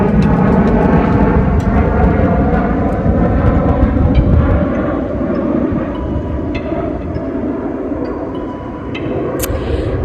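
Loud, close roar of airplanes passing overhead, a broad sustained engine rumble that swells and slowly fades over about ten seconds, with no talking over it.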